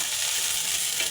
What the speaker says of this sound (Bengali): এইবার বাদামের সঙ্গে ভালো করে ভেজে নেব